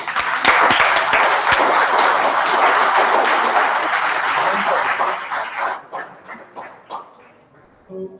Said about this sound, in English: giving a huge round of applause